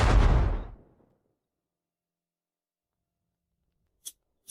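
A single deep, booming explosion of a mountain bursts loudly and fades within a second, followed by silence and two faint clicks.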